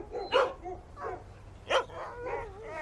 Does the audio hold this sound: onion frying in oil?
no